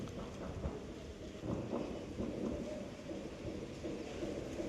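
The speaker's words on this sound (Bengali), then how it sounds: "ঝিঝির ঝিঝির করে বৃষ্টি পড়ছে, কি ওয়েদারটা করলো" Light rain pattering steadily on surfaces outdoors, a soft continuous hiss with occasional low rumbles, fairly faint and without voices.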